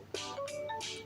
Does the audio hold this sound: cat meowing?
no